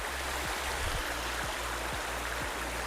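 Waterfall at the source of the Musi river in the Ananthagiri Hills, a continuous broad rushing of falling and flowing water, steady and fairly close, with no voices.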